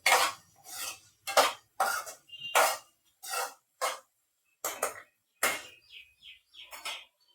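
Spoon stirring potato and yellow cucumber curry in a pan, a series of about a dozen sharp scraping clinks in an uneven rhythm, close and clear with no voices.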